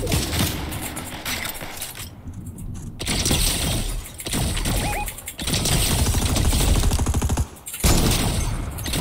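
Sniper rifle fire sounds in a video game: a dense, loud mix of gunshots, impacts and mechanical clatter runs continuously over a busy battle backdrop, with brief drops in level.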